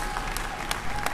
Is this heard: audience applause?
yes